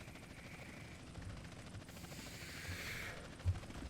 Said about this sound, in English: Is this a police heli you're on?